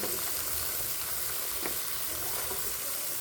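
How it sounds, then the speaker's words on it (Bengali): Tilapia fish fry in hot oil in a pan, a dense, steady sizzle that fills the whole clip with no voices. "তেলাপিয়া মাছ দিয়ে রান্না মাছগুলো ভাজি ভেজে নিচ্ছি"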